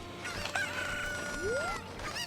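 Cucco chickens in the Ocarina of Time video game crow and cluck, with a rising crow sweeping up over repeated shrill chirps at moderate, steady volume.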